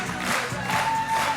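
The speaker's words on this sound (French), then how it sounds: "Avec les acclamations du paquebot" A television studio audience cheers and applauds in a short burst of clapping and shouting from a crowd, loud and full throughout.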